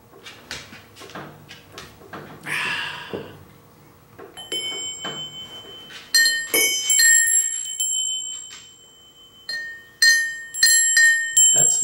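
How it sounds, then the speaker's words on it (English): Clinking glass, a struck bell and a gong are sounded one after another, with sharp ringing strikes whose bright tones linger and overlap, separated by quieter handling noises and soft thumps. "That's the glass, this is the bell, and that's the gong."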